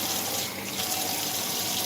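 Tap water runs steadily and splashes into an empty crushed-tomato can as it is rinsed, close by, with no voices.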